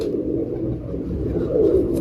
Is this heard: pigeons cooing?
yes